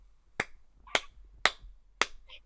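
Four sharp handclaps in a steady, evenly spaced rhythm, close and crisp, with a short faint sound trailing after the last one.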